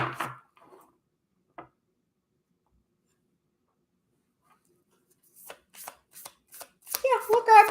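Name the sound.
shuffling oracle cards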